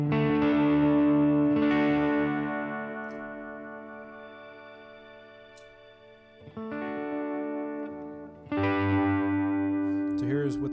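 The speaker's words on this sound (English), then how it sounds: "as you add in more reverb, that warble effect is really, really nice" Electric guitar runs through a PedalPCB Magnetron magnetic echo pedal, a Keeley Magnetic Echo clone, with added reverb, giving sustained warbling chords that decay slowly, then two fresh strummed chords ring out with wavering echo trails.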